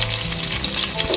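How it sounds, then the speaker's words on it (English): Onions sauté in a hot pan at the start of a pumpkin soup, a loud close sizzle and crackle of frying with faint stirring. "I'll saute the onion a little bit."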